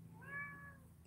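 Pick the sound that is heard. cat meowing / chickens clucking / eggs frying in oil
cat meowing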